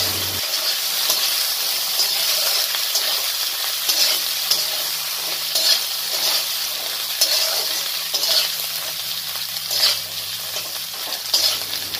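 Potatoes frying with turmeric, green chili paste and ginger paste in a pan, a continuous close sizzle broken by repeated scraping stirs, with no talk.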